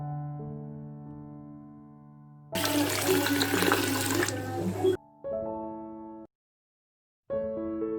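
Tap water runs into a vessel while raw and boiled kolam rice is washed for puttu flour, a steady splashing gush that stops, returns briefly, pauses in silence, then resumes among soft tonal background music.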